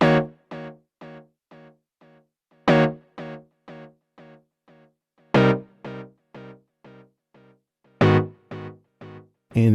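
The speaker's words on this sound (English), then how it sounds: "The first one just consists of some simple chord stabs," An Elektron Analog Four MKII synth plays a looping pattern of short, clean chord stabs in a steady rhythm, with louder accented hits every few beats and quieter repeating echoes from its internal delay between them.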